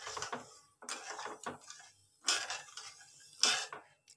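Spoon stirring a sweet motichoor ladoo mixture with cardamom in a pan, a series of short clinks and scrapes in irregular bursts, close and fairly quiet with no talking.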